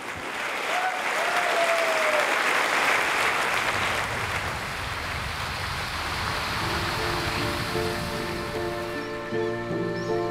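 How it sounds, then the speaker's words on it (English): A Fleetwood audience gives loud, sustained applause after an orchestral and choir performance with Royal Liverpool Philharmonic musicians. The dense clapping thins as soft sustained instrumental tones rise beneath it toward the end. "we wait for the applause, and the applause is just phenomenal"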